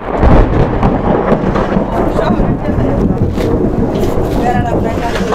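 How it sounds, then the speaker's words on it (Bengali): Thunder rumbles through an outdoor rainstorm, a loud, continuous low roar mixed with buffeting wind against the microphone. "এই তো বৃষ্টি এলোমেলো বানাই দিবে সব পানি এখানে এসে তো যেমন যে মেঘ গর্জন দিতেছে।"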